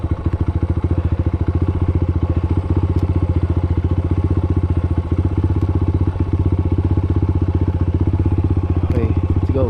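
A motorcycle engine labors loudly and steadily up the rough Mt Tapulao mountain trail, its rapid low thumping pulse running unbroken throughout, close and dominant with occasional clatter.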